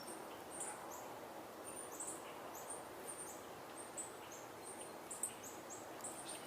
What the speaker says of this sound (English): It's coming from a few different places, high-pitched. Sounds like maybe a sparrow of some sort.